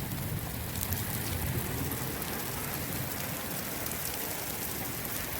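Steady, dense rain falls in Bagasara, a loud, continuous broadband hiss of drops striking surfaces nearby, unbroken and without voices.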